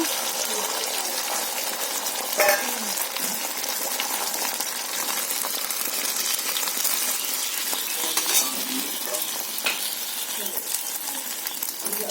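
Eggs cracked into hot oil in a kadai fry with a steady, close crackling sizzle that runs the whole time, broken by a few brief clinks and bumps. No one speaks.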